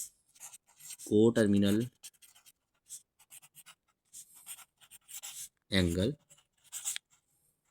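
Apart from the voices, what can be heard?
writing a maths solution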